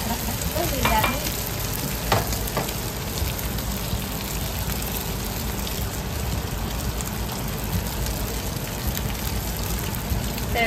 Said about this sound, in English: Says to stir frequently to get it crispy.